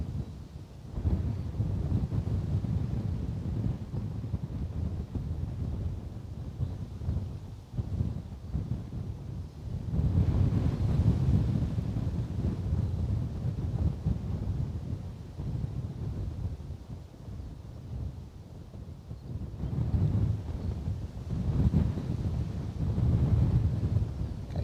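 Severe wind batters a microphone at Bristol Airport, giving a loud, continuous low rumble and buffeting that swells in strong gusts around ten and twenty seconds, with no other clear sound above it.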